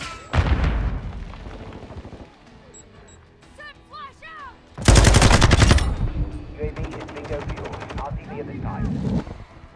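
Bursts of gunfire in a Call of Duty: MW2 multiplayer match, with a loud rapid volley in the middle and repeated shots after it, over a busy game mix that includes some radio-style voices.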